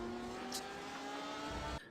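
A race car's engine drones steadily at close range, holding a sustained, even tone before cutting off abruptly near the end.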